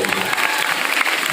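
A brief patch of audience applause at a family gathering hosted by an MC, dense and steady with a low murmur of the crowd underneath.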